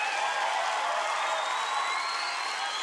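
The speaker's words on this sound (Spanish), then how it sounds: "aplauso a papá Dios bien fuerte." Audience applause with crowd cheering at a live comedy show, a steady dense wash of clapping and voices that stays fairly faint and even for a few seconds.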